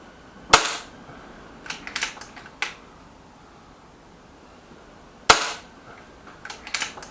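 An EB Arms XV2 pellet gun fires two sharp, loud cracks several seconds apart, each followed by fainter clicks and small knocks of handling.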